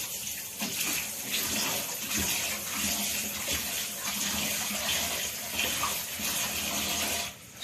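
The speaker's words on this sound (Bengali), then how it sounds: "চলো চিকেনটাকে ধুয়ে নিই।" Raw chicken rinsed under a running kitchen tap, a steady continuous rush of water splashing loudly and close for the whole stretch, no talking over it.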